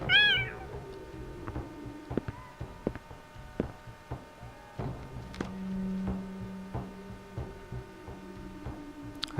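Kittens meow in the Shadow of Memories video game: a clear high meow opens, followed by fainter mews, low hum and scattered clicks.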